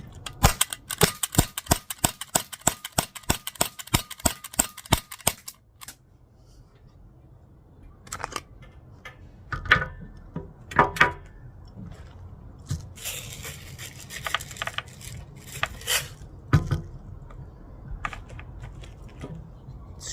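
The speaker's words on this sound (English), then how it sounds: "Two more shots." A Glock 17 Gen 3 BB gun fires a rapid run of sharp, evenly spaced snapping shots up close, then a few scattered clicks and handling noises follow over quiet room tone.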